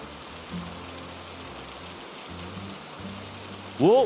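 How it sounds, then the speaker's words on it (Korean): Rain falls steadily in a forest at nightfall, a constant soft hiss of drops that runs throughout, with a brief tonal sound near the end. "오메 오메, 이것이 지금 비가 오는 것이라냐?"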